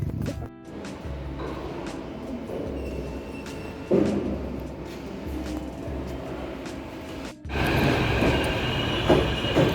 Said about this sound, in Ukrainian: Ми хочемо поїхати на електричку і пофоткатися там внутрі.